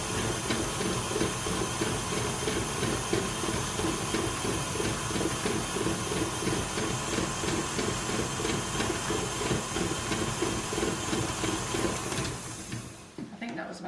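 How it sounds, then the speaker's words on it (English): An electric mixer whirs loudly and steadily while beating cake batter made with soya yogurt, a continuous grinding drone that runs nearly fourteen seconds before cutting off at the end. "We have to turn the mixer on."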